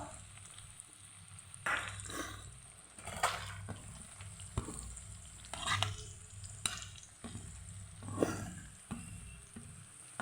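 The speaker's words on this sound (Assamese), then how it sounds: "পিঁয়াজখিনি এতিয়া মই ভালদৰে ফ্ৰাই কৰি ল'ম।" Onions frying in a wok for an Assamese chicken curry, a quiet sizzle broken by repeated scraping stirs of a spatula against the metal, no talk.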